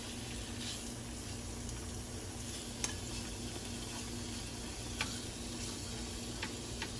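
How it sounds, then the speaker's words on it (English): A steady, quiet sizzle of steak frying in a hot pan, constant crackling hiss with a few faint ticks, no talking. "I know y'all hear that sizzle."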